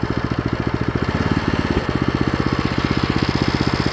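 An Agat 6.5 hp walk-behind tractor engine running on its first start, a loud, close, steady rapid thumping chug with an even rhythm throughout and no talk.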